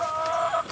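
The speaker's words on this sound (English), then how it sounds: "The chickens are doing well. They've been laying us eggs." Egg-laying backyard chickens give a short, close, sustained clucking call with a steady tonal quality, lasting under a second, with no talk.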